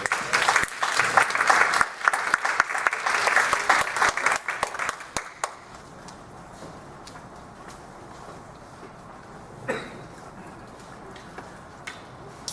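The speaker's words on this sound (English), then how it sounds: "let's just give a applause" An audience at an interfaith gathering applauds to welcome guests with a dense burst of clapping that fades out after about five seconds, leaving quiet room tone and a faint knock.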